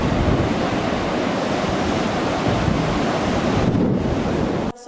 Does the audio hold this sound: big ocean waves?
yes